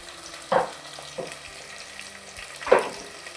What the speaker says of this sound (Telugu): ఇవైతే బాగా ఫ్రై అవ్వాలండి.